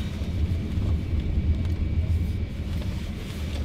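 Low, steady rumble of an FF 91 electric car weaving through a cone slalom on an autocross course, a continuous near drone with no speech.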